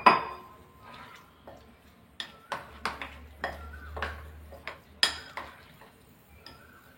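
A utensil scrapes and clinks against a bowl while stirring curd dosa batter, in irregular strokes close by, with quiet pauses between the sharper knocks.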